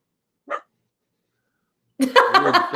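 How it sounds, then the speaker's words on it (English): A pet dog gives a single short bark in the background, then falls silent for a moment before louder nearby speech takes over. "we got the doggy in the background causing trouble"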